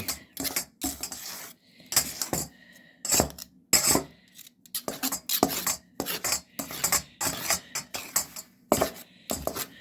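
Knives cutting and scraping through crumble topping in a bowl while baking, producing a steady run of close metallic clinks and scrapes in uneven, rhythmic bursts with short pauses.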